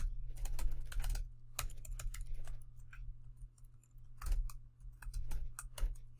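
Keys clatter on a computer keyboard as code is typed, in uneven bursts of quick clicks with short pauses, close by over a steady low hum.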